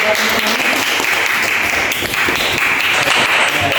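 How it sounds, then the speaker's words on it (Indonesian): Group clapping in a classroom session, brief loud burst of hands applauding close by, fairly dense and steady for a few seconds. "Jadi tepuk tangan dulu."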